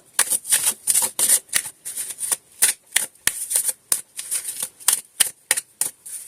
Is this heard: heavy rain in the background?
no